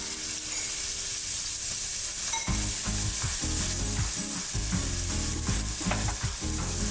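Mushrooms and chopped garlic sizzle in a pan for a herbed croissant stuffing, a steady fry that turns into busy, loud scraping and stirring strokes partway through, close by with no voices.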